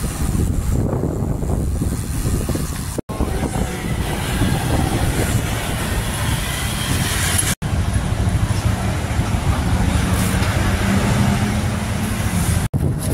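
Steady, loud road noise of a ride toward Tagaytay, rumbling and hissing continuously through the whole stretch, broken by a few very brief dropouts, with no talk over it.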